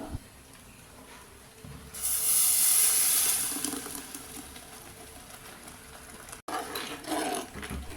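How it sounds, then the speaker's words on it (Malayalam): Ground masala paste poured into a hot pan for a Kerala meal, bursting into a loud, close sizzling hiss that swells, fades over a couple of seconds, then flares again briefly near the end. "ഇനി നമുക്ക് ചട്ടി ചൂടായതിന് ശേഷം അരപ്പൊഴിച്ചു കൊടുക്കാം"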